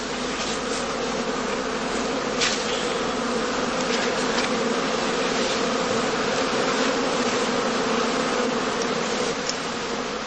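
Honey bees buzzing steadily at a heather skep apiary during summer blossom, a dense continuous hum with no talk, close and even throughout.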